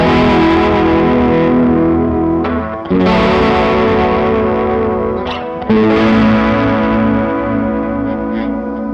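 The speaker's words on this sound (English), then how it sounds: "you're still hearing that really, really great chorus sound, but it's just getting a little dirty" Electric guitar through a shimmering chorus pedal followed by gritty overdrive, sustained chords ringing out and changing twice, loud and up front.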